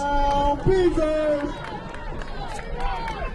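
A home crowd at a high school football game between the South Hadley Tigers and Putnam Beavers stirs on third down, a broad rumble of cheering with whistle-like tones over it, mixed with nearby voices.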